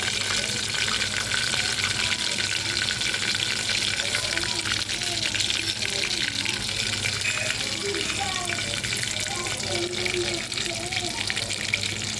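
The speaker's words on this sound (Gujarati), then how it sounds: "હવે આપણે દાળ વઘારી દઈએ." Mustard seeds and chillies crackle and hiss in hot oil as a tempering for dal, a dense steady sizzle that runs the whole time, with faint voices audible beneath it.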